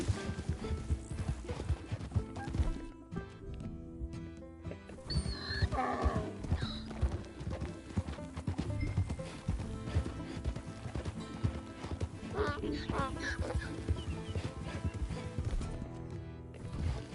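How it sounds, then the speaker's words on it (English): Donkey hooves clip-clop steadily in Red Dead Redemption 2, a continuous rhythmic trotting over a dense game soundscape with occasional animal whinnies mixed in, moderately loud throughout. "But you can ride a donkey."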